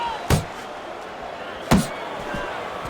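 Two sharp punches landing in the Fight Night Champion boxing game, one after the other about a second and a half apart, loud thwacks over a quiet crowd bed.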